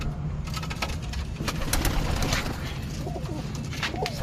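Pigeons cooing in a backyard coop, soft low murmuring calls running continuously under steady outdoor background noise, with a few faint higher chirps near the end.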